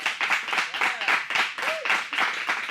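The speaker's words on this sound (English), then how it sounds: "They clap when they want to clap." An audience claps at a Bronx Pride event, with rhythmic bursts of hand claps repeating steadily and fairly close, mixed with voices talking over them.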